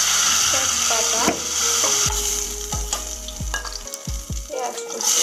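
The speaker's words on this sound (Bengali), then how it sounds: "তেলটা গরম হয়ে গেছে, এবার দিয়ে দিচ্ছি তেজপাতা" Bay leaves hit hot oil in a home kitchen, setting off a loud, close sizzle broken by several sharp clunks and scrapes of a utensil against the pan.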